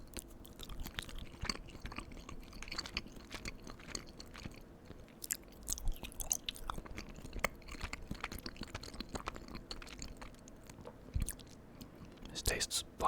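Cheese is eaten on homemade pretzel sliders with close, soft chewing and occasional crisp bites. The mouth sounds are quiet and irregular, with faint speech now and then.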